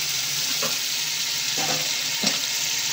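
Onion and tomato frying in oil for a katla fish curry, a steady loud sizzle with a few faint stirring knocks, close and continuous, no talking.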